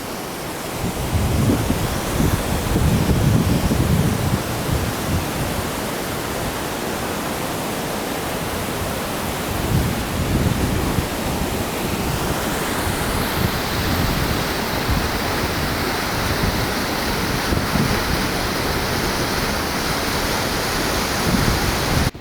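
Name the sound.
waterfall rushing water, Thác Rồng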